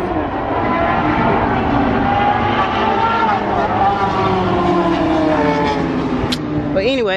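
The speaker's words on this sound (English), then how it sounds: "Somebody racing." A car races past outdoors, a loud revving engine whose pitch climbs and sweeps through gear changes, heard from nearby alongside a voice.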